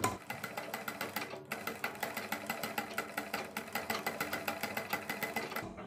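A sewing machine runs steadily, stitching a narrow piping strip along the neckline of a suit kurti, its needle clattering in a fast even rhythm up close with one brief pause before it carries on, and no voices.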